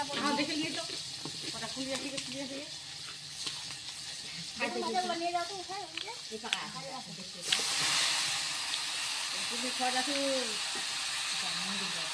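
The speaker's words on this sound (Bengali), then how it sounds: "আমি আমাদের চিকেনটা বসিয়ে দিয়েছি" Chicken cooks in a hot pan with a steady hiss and sizzle that swells loudly partway through, while someone talks over it.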